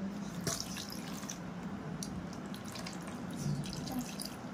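Water poured over small Gopal idols during a Janmashtami bath ritual, a steady trickling splash running continuously, close by, with no talk.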